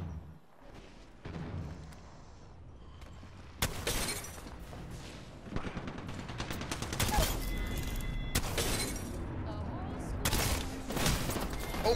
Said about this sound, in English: I headshot with a mastiff for 58.